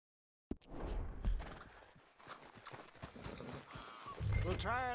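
Horse hooves clip-clop in Red Dead Redemption 2, a steady run of close, loud hoofbeats on the ground with people talking over them.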